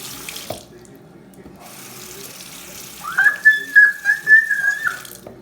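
Hands being washed under a running tap, with water splashing steadily into a sink and a loud, wavering whistle-like tone rising over the flow for its last few seconds.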